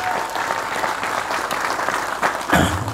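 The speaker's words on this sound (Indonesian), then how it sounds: "Tepuk tangan semuanya." An audience at an Islamic boarding school anniversary gathering claps loudly and continuously, a dense wash of applause with a brief swell near the end.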